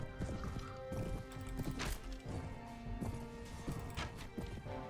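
Horse hooves clop and pound in a busy Mount and Blade Warband battle, with rapid galloping beats mixed among clashing impacts and a faint whinny, fairly quiet overall.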